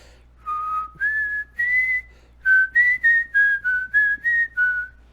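A person whistles a bright, lilting tune from the game Outer Wilds, with a few sustained notes followed by a quicker run of short, evenly spaced notes, clear and close.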